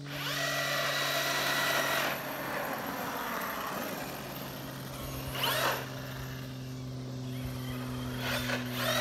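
An Arrma Kraton EXB RC car's high-pitched electric motor whines steadily at full power, with a continuous buzzy drone and brief bursts of extra noise, no voices.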